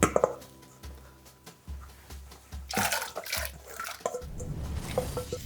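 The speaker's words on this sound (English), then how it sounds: "I'm just gonna toss these in the water to blanch them" Vegetables for enchiladas rojas are tossed into a pot of water to blanch, giving soft splashes and drips over a steady low kitchen hum.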